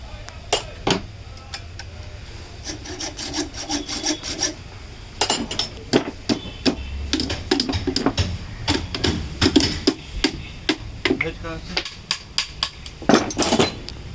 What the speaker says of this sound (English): Right now they are cutting the bolt.